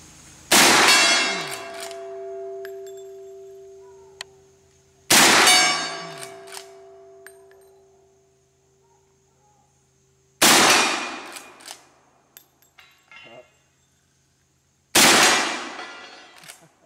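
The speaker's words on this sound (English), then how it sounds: "This is the Winchester 1886 model, and it fires a much bigger bullet, buffalo round, 45-70." A Winchester 1886 lever-action rifle fires 45-70 buffalo rounds at steel targets outdoors. Four loud, sharp reports come about five seconds apart, and each is followed by a long, bright metallic ring that slowly fades.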